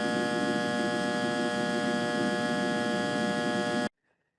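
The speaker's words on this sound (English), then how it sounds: "Power transformers must meet very strict noise emission standards, mostly focusing on the so-called hum noise." Steady electrical hum from a power transformer, a constant buzzing tone with strong harmonics that holds evenly, then cuts off abruptly near the end.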